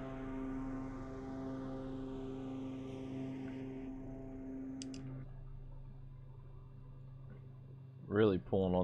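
Twin turboprop engines of an Embraer EMB-110P1 Bandeirante in Microsoft Flight Simulator give a steady, tonal droning hum that shifts lower partway through, with a brief voice near the end.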